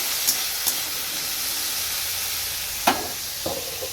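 A low, steady hiss of potatoes and yardlong beans frying in a pan, punctuated by a few short clicks early on and a sharper utensil scrape or clatter later.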